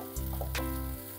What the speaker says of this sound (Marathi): आता हे सगळं नीट एकदम छान परतून घेऊ आपण।